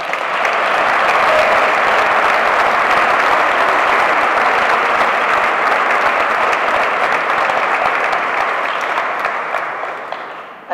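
A large audience in L'Olleria applauds after thanks at a Cant de la Sibil·la concert, a dense, sustained round of clapping filling the hall before it tapers off at the end.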